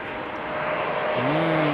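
KLM airliner on Flight 1774 from Berlin, a 16-year-old jet first flown in January 2008, arriving at Amsterdam Schiphol Airport: a steady broadband engine roar that grows slightly louder, with a rising tonal whine toward the end and no talking.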